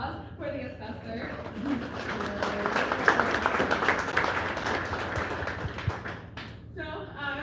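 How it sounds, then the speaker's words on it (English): An audience at a county tax meeting claps for the county assessor, a moderate burst of applause that swells and fades over several seconds, with voices murmuring alongside. "let's give a hand of applause for the assessor."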